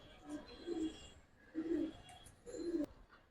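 Giribaz silver pigeons coo softly nearby in three repeated, low, throaty phrases, with faint background noise between them.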